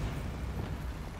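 A Bombarda spell in Hogwarts Legacy detonates with a brief, rumbling blast that fills the short moment loudly, with no talk over it.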